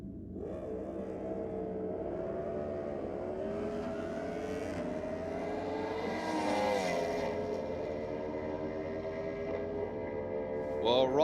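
Drag-racing motorcycles launch down both lanes at a strip, their engines heard from a distance as a rising, layered whine that climbs and fades over several seconds, with a commentator talking faintly over it.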